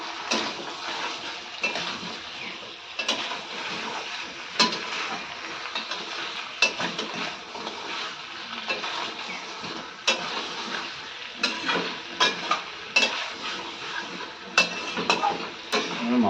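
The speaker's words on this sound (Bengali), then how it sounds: "মাংসগুলোকে আমি ভালোভাবে কষিয়ে নেব" Chunks of meat and potatoes stir-fried in a pan for a slow Bengali kosha, giving a steady close sizzle broken by repeated spatula scrapes and clacks against the metal, with no talking.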